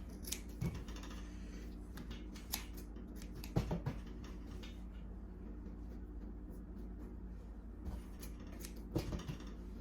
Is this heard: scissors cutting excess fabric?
yes